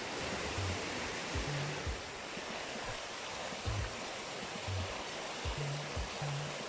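A waterfall in Sinop, Turkey, roars continuously, a dense, steady rush of falling water with a few low knocks or thumps beneath it.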